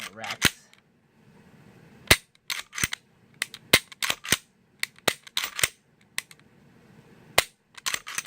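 An HK45 pistol's trigger snaps in sharp dry-fire clicks during reset practice, about twenty crisp close clicks in irregular pairs and clusters, with soft murmuring talk faintly underneath.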